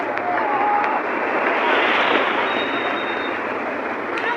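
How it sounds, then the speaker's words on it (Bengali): Surf at Cox's Bazar beach roars loud and close as a continuous, dense wash of crashing water that swells slightly midway and never lets up. "আপনারা সমুদ্র গর্জন শুনতে পাচ্ছেন নিশ্চয়ই।"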